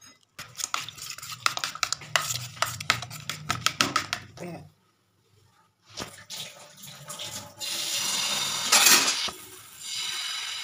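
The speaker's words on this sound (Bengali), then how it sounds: "সবকে ভালো করে মিক্স করে নেব। এর মধ্যে দেবো একটু জল।" Peas, chopped ginger, salt and turmeric stirred together in a pan, then a splash of water added: scraping, clattering stirs up close, a short pause, then water pouring and sizzling briefly before a steady wet hiss.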